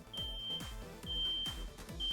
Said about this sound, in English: the fire alarm in our house is going off because I believe my husband is cooking